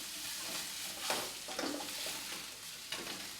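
Vegetables sautéing in garlic and ginger oil, a soft continuous sizzle with a few scraping stirs and light clinks, heard fairly quiet and close, no talk over it.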